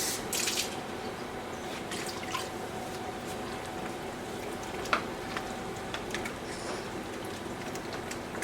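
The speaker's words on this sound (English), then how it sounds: "We're going to add a little bit more water so that way the vegetables can finish cooking." Vegetables simmer on low heat as a little more water goes into the pot, giving a steady soft hiss and bubbling with scattered drips and one sharp tap midway.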